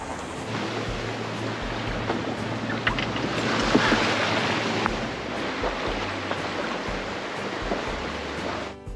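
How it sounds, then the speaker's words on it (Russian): A sailing yacht runs before a following wind of over six metres per second at about six knots in Finnish waters, with steady wind rush and waves washing along the hull, continuous and fairly loud throughout, no voices. "Дует попутка, 6 с лишним метров в секунду, скорость 6 узлов"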